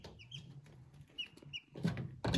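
A few faint chirps and soft clucks come from young chicks of an American breed. Rustling and a couple of louder knocks follow toward the end.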